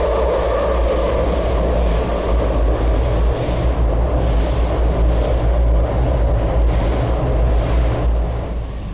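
A Taipei subway train rumbles along, a loud, steady low roar with broadband rushing noise throughout, continuous and close from start to finish, with no voices.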